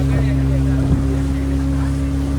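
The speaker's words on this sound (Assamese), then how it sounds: "দমত চলিছে নাও" Motorboat cruising on the sea off Goa, a steady loud engine drone with wind and water rush, and faint voices under it.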